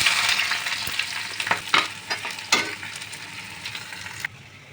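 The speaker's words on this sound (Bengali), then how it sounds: "পেঁয়াজটা ভেজে নিয়েছি" Chopped onions frying in hot oil with whole garam masala for ghugni, a loud continuous sizzle with repeated scraping stirs of a spoon, close up, tapering off near the end, no voices.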